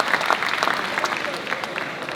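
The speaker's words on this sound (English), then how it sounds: "You got a round of applause." A crowd at a professional wrestling show in Kuala Lumpur gives steady, moderately loud applause, with many hands clapping at once and some crowd voices mixed in.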